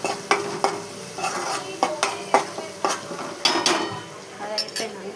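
Ginger and turmeric fry in oil, a light sizzle under a rhythmic series of sharp metal spoon scrapes and clinks against the pan, close and fairly loud.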